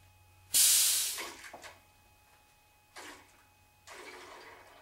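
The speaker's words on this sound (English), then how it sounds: "Let's depressurize the tank a little bit." A pressurized fluid tank on a Motive Power Bleeder is vented with a sharp, loud hiss of escaping air that tapers off over half a second, followed by two softer, shorter hissing releases.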